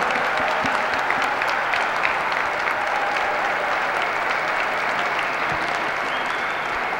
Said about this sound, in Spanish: ¿Se merece un aplauso la señora o no se merece?